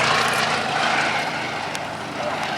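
A Fairey Swordfish biplane's propeller engine drones steadily at an air festival, a broad continuous rumble with a faint rhythmic beat, heard from a moderate distance without speech.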